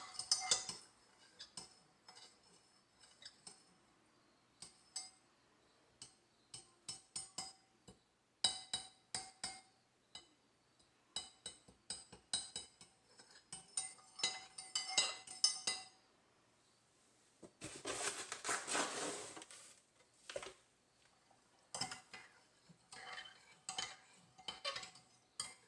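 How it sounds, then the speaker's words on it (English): Borax solution stirred in a glass container for a crystal trinket bowl, a spoon clinking repeatedly against the glass in quick irregular bursts, with a short scraping swirl partway through and no talk. "Stir it up."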